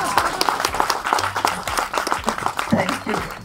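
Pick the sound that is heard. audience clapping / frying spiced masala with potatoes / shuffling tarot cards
audience clapping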